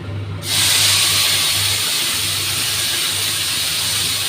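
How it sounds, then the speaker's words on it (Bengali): Ground spice paste drops into hot oil in a cooking pan, setting off a sudden loud hiss that settles into a steady, close sizzle lasting several seconds, with no voices. "এবার আমি এর মধ্যে আমার বেটে রাখা মশলাটা দিয়ে দিচ্ছি।"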